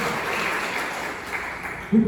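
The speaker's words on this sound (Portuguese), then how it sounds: "Aplauda o Senhor." Church congregation clapping together during a deliverance worship service, a steady dense wash of applause for about two seconds with a louder burst near the end.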